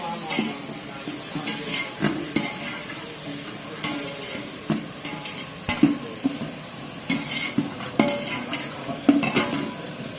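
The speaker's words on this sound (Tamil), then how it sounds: "தக்காளி கொட்டி விட்டோம் அருமையாக விதக்க போகிறோம்" Tomatoes sautéing in a pan for biryani, a steady soft sizzle under repeated scraping and clinking of a stirring spoon against the pan, with a few sharper knocks and no talk.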